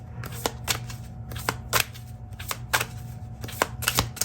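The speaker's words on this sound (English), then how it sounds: "I'm going to go ahead and pull a few cards from the Stay Inspired Oracle cards by Sister Moon Tarot" Stay Inspired Oracle cards by Sister Moon Tarot riffled and pulled from the deck in a steady series of crisp, close papery bursts, evenly spaced over a faint low hum.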